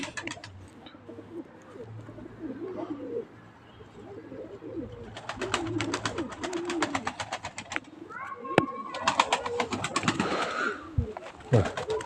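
Pigeons coo close by against a soft rustling background, their calls rising and growing busier toward the end while people talk intermittently nearby.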